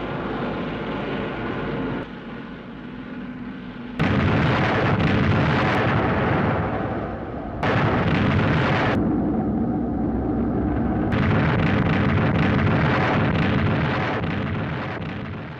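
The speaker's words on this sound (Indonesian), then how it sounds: "GSDF lalu memulai operasi untuk meledakkan lereng menggunakan jet-jet tempur." In the 1955 film Godzilla Raids Again, fighter jets bomb an icy mountain slope: loud roaring blasts and jet noise in abrupt stretches, cutting in and out with heavy rumbling, no voices.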